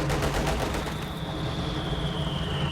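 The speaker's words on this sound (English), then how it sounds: "Now I start shooting right into these guys" Soviet infantry gunfire in the Company of Heroes 2 strategy game, a dense continuous rattle of rifle and machine-gun shots with rapid bursts layered over steady battle noise for the whole stretch.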